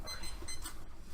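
A debate round timer sounds its alarm, a busy electronic beeping that fills the short moment at steady loudness with no talk over it.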